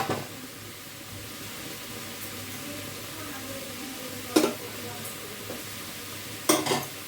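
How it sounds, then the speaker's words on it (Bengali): Boiled potatoes fry with a quiet steady sizzle in a pan while a utensil stirs them, with a few sharp scrapes and clinks against the metal at intervals. "আলুগুলো তো সেদ্ধ হয়ে গেছে। এবার এটা একটু ভাজা ভাজা হবে।"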